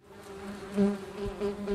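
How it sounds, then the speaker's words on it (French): Steady droning buzz of bees, humming continuously with slight swells in loudness, fairly close. "les abeilles bourdonnent dans mes oreilles"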